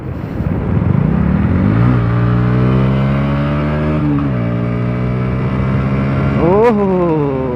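A motorbike engine, struggling to pick up speed, revs hard and climbs through several accelerating sweeps, loud and close, with a sharp rise and dip between gear pulls.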